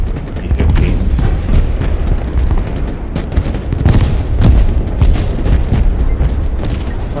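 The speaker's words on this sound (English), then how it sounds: "Absolutely huge artillery here. This is doing so much damage." Heavy artillery fire and explosions in the video game Broken Arrow: continuous rumbling booms and blasts, loud and close, layered over a steady battle roar, with a voice talking over it.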